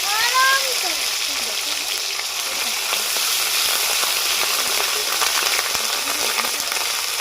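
Bay leaf, chopped tomato and ginger paste fry in hot oil, giving a continuous bright sizzle with a few light clinks near the start.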